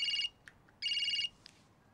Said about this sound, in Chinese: 你接电话